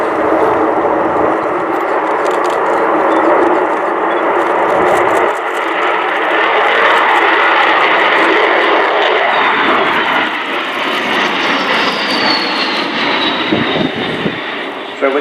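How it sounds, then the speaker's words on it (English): An Avro Vulcan XH558 jet bomber rumbles past along the runway during an airshow flypast, a loud sustained broadband jet roar that swells as it accelerates, with a commentator talking over it. "So as Kev brings the Vulcan in along the runway, along the display lines, I'm looking to see him accelerate her to about 300 knots, 345 miles an hour."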